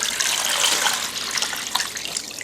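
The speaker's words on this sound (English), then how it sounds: "First, we're going to add our water to the brine." Water pours steadily into a container for a chicken brine, a bright continuous splashing rush with slight fluctuations, close and fairly loud, with no talking.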